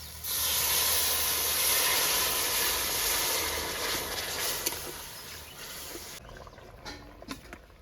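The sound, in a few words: reserved dal cooking water poured into fried masala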